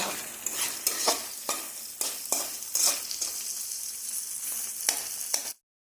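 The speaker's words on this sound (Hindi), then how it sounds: "प्याज को किछि समय भाजीबा।" Onions sizzle steadily in a hot pan for a paneer curry, with repeated scraping stirs punctuating the frying hiss before it cuts off abruptly.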